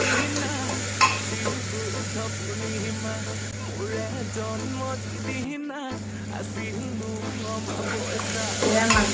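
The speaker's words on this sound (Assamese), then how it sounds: "মাকৈ দি এবাৰ লৰাই দিম।" Corn stirred into softened tomatoes in a frying pan, a steady loud sizzle under scraping stirs of the spoon against the pan, continuous throughout with one brief dropout.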